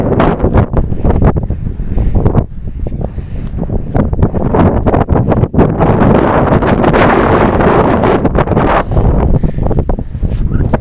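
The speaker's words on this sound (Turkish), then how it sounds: "Çok aşırı bir Rodos rüzgar, rüzgarı var burada." Strong gusts of wind on a rocky spot on Rhodes buffet the microphone in a loud, continuous roar, with no clear speech over it.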